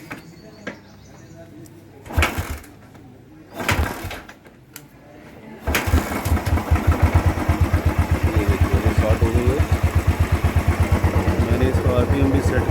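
A Royal Enfield Thunderbird motorcycle, set up to idle around 1100 rpm, is cranked with a few short bursts, then fires and settles into a loud, steady, rapid thumping idle close by.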